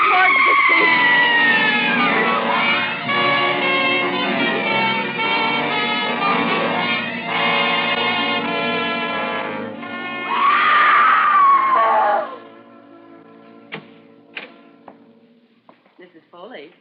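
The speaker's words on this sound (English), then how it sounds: "you mustn't scream like that" A woman's long, loud scream from a 1945 radio drama, sustained and rising for about twelve seconds over an orchestral-style effect, then cutting off abruptly to quieter scattered knocks and shuffles.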